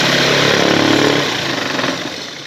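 A sewing machine stitches a shalwar belt with a rapid, buzzing mechanical rattle that runs loud and close, then eases into a slower, lighter stutter near the end.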